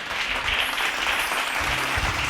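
Brief applause from a congregation at a Bible study gathering, a short burst of clapping heard at moderate distance.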